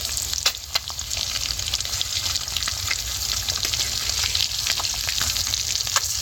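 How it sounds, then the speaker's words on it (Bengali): Halved boiled eggs frying in oil in a pan, with a close, steady sizzle broken by small popping spatters and occasional stirring, and no speech. "ডিমগুলো এক সাইড ভেজে নিয়েছি"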